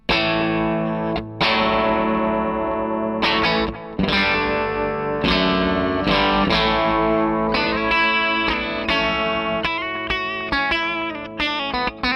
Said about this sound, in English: And here's my first delay sound.